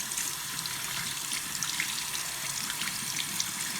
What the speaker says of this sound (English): we're going to get some water going here